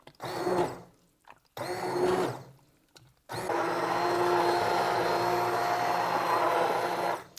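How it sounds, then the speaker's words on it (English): An immersion blender whirs in two short bursts in potato soup, then runs steadily and loudly with a grinding motor hum for several seconds. "Unplug our blender."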